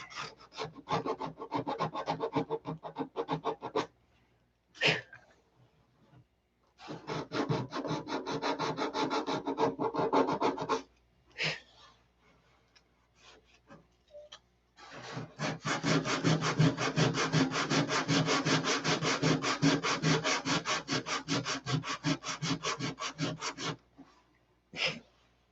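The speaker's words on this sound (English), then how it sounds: "See, I'm sanding the plastic now." Hand sanding of a plastic canopy: rapid, steady back-and-forth rasping strokes come in long close bursts, separated by short pauses and a few isolated scrapes, with no talking.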